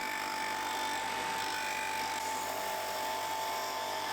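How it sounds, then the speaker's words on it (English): A disc sander shaping the curved areas of a wooden knife blade scraper, a steady high whirring grind with a constant tone, continuous and close with no talk. "Then at the disc sander I could refine the shape of the curved areas."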